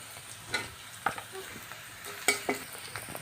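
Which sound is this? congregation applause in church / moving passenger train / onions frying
onions frying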